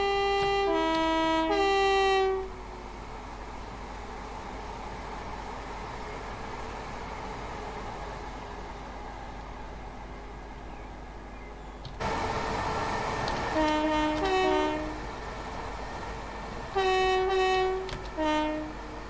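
Horn melody and the rumble of an AP Class 377 electric multiple unit running flat out past a trackside viewpoint in Train Sim 2021, the horn sounding a tune at the start and again near the end, with no voices.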